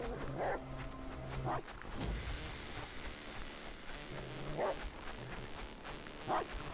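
A dog in the survival video game Die Young barks in short separate bursts, a few yips and barks spaced out over steady game ambience, fairly faint and with no talk.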